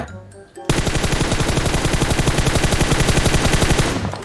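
Rapid automatic gunfire in PUBG Mobile rattles off in a long, fast, loud burst aimed at a car, the shots coming in an even stream after a brief quiet start.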